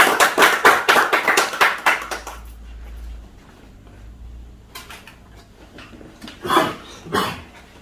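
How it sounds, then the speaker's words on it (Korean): A crowd claps loudly at a policy forum in Korea as a speaker is introduced, the dense applause lasting about two seconds before fading into quiet room tone, with a couple of brief louder bursts near the end. "큰 박수 부탁드립니다"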